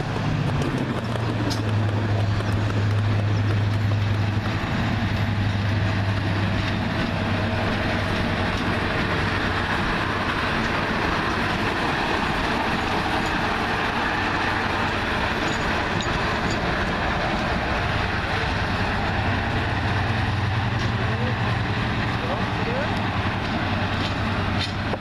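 A DRS diesel locomotive powers up and moves off at a heritage railway, a loud, sustained engine roar with a deep low drone and steady rail rumble, with occasional voices beneath.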